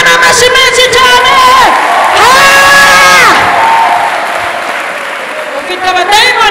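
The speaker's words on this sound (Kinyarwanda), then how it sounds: "Mukomere Imana amashyi menshi cyane." Loud, sustained clapping and cheering from a congregation at a church gathering, with shouted voices and whoops over it, fading a little before a fresh burst at the end.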